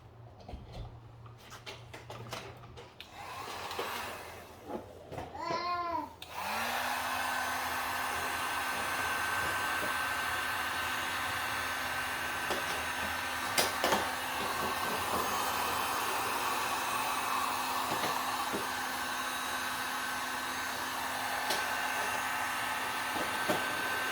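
Heat gun blowing a steady, loud airflow hiss onto the headlight lens adhesive of a 2007 Audi B7 RS4, starting after a few seconds of handling noise and running continuously to the end.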